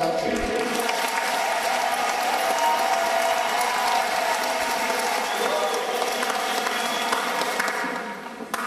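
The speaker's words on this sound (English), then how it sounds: "Let's give our big round of applause for the last dance tonight" An audience at a Bollywood dance musical applauds the final dance of the night, dense sustained clapping from a large crowd that holds steady and then begins to thin at the end.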